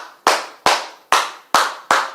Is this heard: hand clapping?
yes